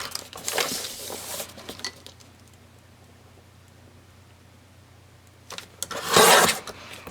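Folded paper envelope for a scrapbook page being trimmed, with two close bursts of crisp paper cutting and rustling, one at the start and a louder one near the end, and quiet in between.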